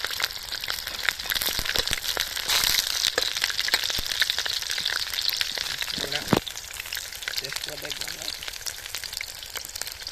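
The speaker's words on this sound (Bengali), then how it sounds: "আমাদের পকোড়াটা সুন্দর করে লাল লাল করে ভেজে ফেলেছি" Chicken pakora fries in hot oil with a steady, dense sizzle and crackle throughout, broken by occasional louder pops and stirring sounds, while faint voices murmur in the background.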